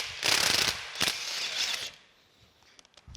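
Impact wrench with an impact socket loosening a lock-washered nut during a steam locomotive stoker engine restoration: a loud, rattling hammer burst of about two seconds, then quieter clicks and handling noise nearby.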